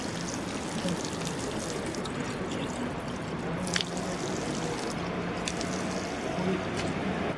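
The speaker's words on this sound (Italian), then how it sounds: "sto andando a cercare una fontanella per riempire la mia borraccia" Water running from a public drinking fountain into a water bottle outdoors, a steady trickling pour heard close and continuous at moderate level over faint background ambience.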